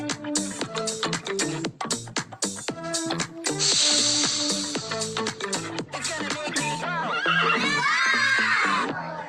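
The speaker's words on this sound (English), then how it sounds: "Horse." A horse neighs loudly in a long, shrill whinny with rising and falling pitch, breathy snorts and a trailing quaver, played alone as a close sound effect during a phonics lesson.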